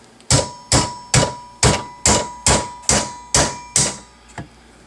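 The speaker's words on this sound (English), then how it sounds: "I should just have to tap these out with a punch" A hammer strikes a punch to tap out pins during a Saiga 12 rifle conversion, with eight sharp, evenly spaced metallic blows ringing loud and close, followed by one lighter tap.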